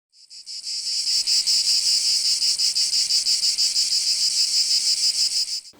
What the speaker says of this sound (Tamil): இந்த சில்வண்டுகள் நாம் கேட்டிருக்கிற இந்த பூச்சியின் சத்தம்